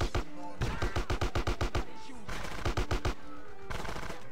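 Rapid SMG fire in GTA San Andreas comes in several loud, clipped bursts of quick shots separated by short pauses.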